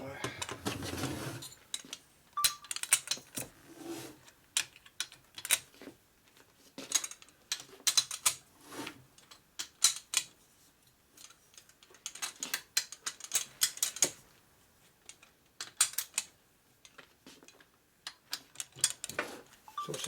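Ratcheting wrench clicks in quick bursts as bolts are tightened in sequence on a 1989 Harley FXR 89ci Evo S&S stroker big bore twin engine being rebuilt, close and crisp, with pauses between runs.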